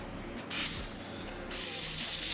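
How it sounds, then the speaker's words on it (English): Two hissing bursts of hairspray-like wig adhesive sprayed along a hairline, a short near spray followed after a pause by a longer sustained one, close and fairly loud. "I just go in and spray my hairline"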